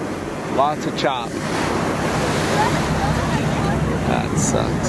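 Choppy ocean waves slap and wash steadily while wind buffets the microphone at sea aboard a whale-watching boat, with a few brief voices early on.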